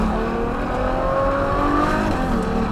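A Ferrari GTC4Lusso in sports mode, its exhaust droning steadily and loudly from close by as the car drives, with a continuous engine note shifting slightly in pitch throughout.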